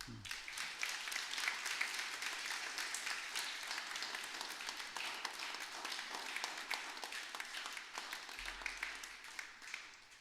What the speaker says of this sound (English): together we'll give a nice clap